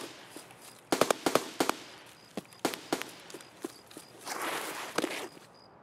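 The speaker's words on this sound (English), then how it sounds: "There's so much gunfire." Gunfire in the video game Escape From Tarkov, sharp shots cracking out singly and in quick bursts at middling distance, with a long rattling stretch near the end.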